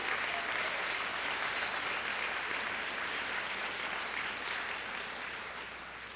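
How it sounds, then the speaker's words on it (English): An audience applauds awardees at a college convocation, a steady, dense wash of clapping hands that holds throughout and tapers slightly at the end. "Let's give all of our awardees another round of applause."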